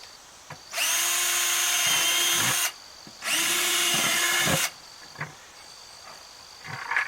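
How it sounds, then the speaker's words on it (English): A power drill bores holes into the bottom of a plastic 5 gallon bucket, two loud whining bursts of a couple of seconds each, close up, separated by short pauses with small knocks and handling noises. "so let's drill a few holes"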